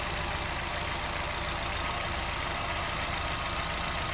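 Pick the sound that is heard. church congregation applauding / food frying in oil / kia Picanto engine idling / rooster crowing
kia Picanto engine idling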